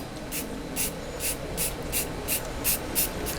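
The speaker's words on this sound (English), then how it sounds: "Try not to spray paint the camera lens." Bursts of aerosol spray hiss in a steady rhythm, about eight short sprays in a row, close and fairly loud, with no talking.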